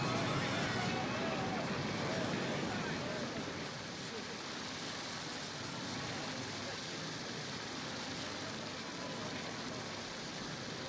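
Storm waves churn around a small boat at sea, a loud, steady wash of surging water and rain-like spray that fills the whole stretch without pause, with voices faintly present beneath the roar.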